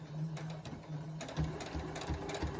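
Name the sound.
sewing machine needle through thick layers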